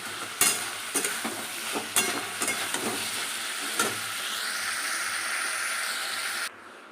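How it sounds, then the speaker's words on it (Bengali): A fish head frying in oil with onion, ginger, garlic and green chillies, a steady close sizzle broken by several clattering spatula stirs in the pan, with no talking. "এই পেঁয়াজ আদা রসুন দিয়ে কষিয়ে নিয়েছি, কাঁচা লঙ্কা দিয়ে মাছের তেল দিয়ে মাছের মাথাটা দিয়ে দেবো,"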